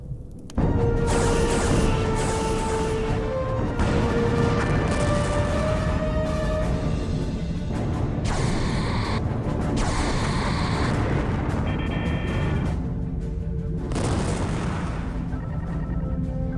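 A weapon hit explodes against a starship in a science-fiction audio drama, striking the starboard nacelle: loud booming blasts and rumbling bursts fill the scene, layered with whining tones and crackling debris throughout.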